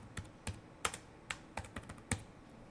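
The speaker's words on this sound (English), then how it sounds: "I can type in living room" Quick, light keystrokes on a computer keyboard entering a short word, about a dozen soft clicks in an uneven rhythm, close and quiet with no talk.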